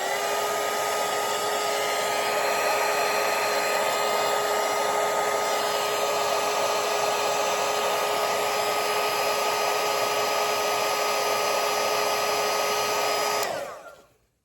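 A hair dryer blows on watercolour paint in a steady, loud, close whir for about thirteen seconds, then quickly shuts off.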